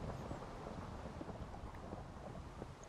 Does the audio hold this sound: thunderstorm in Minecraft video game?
yes